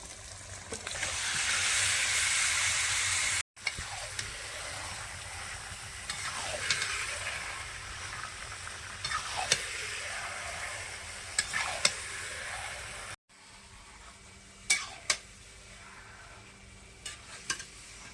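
Chicken hits a fried spice paste in a Bengali home kitchen, giving a steady loud sizzle with repeated scraping stirs of a spoon against the pan. The frying continues alone for a long stretch.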